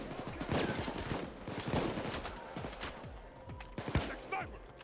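Video game gunfire, rapid bursts of shots cracking out in quick succession alongside other game effects, moderately loud and continuing through the stretch.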